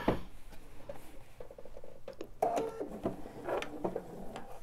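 A sewing machine stitching quilt pieces, in quiet short bursts of rapid mechanical whirring and ticking with brief pauses, close but soft.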